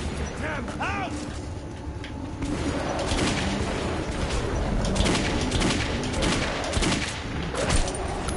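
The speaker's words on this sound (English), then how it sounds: "Shooting me? Oh shit, the mutants have guns!" Mutants fire guns in Metro 2033 Redux, producing a rapid burst of clattering gunfire and mechanical impacts mixed with game noise, while a player talks over the shooting.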